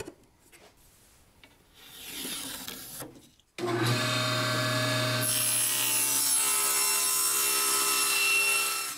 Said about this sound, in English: I'm going to do that on a table saw mostly